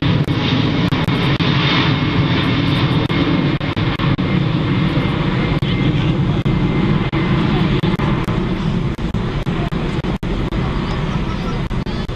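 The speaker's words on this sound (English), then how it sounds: "Power will come on soon, climb away to a steep climb to the downwind position" An aircraft's engines roar continuously during a flying display at the Farnborough 2014 air show, loud and close, a sustained powerful rumble with no letup.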